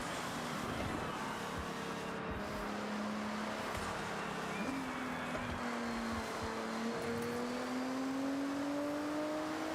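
A Nissan GT-R R35 engine drones steadily while driving in the video game Forza Horizon, its pitch holding and then stepping up as it shifts through gears, continuous and moderately loud.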